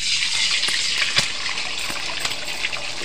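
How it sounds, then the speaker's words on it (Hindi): Beaten eggs poured into hot oil in a kadhai on a gas stove, a continuous hissing sizzle with small crackling pops close up and fairly loud. "तेल गरम हो गया है। अंडा डाल दे रहे हैं"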